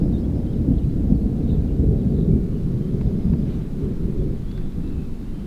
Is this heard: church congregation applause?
no